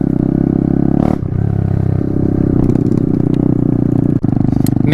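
Honda Grom or Kawasaki Z125 mini motorcycle ridden nearby, its small engine buzzing loud and steady with a shift in revs, clattering and scraping bumps mixed in.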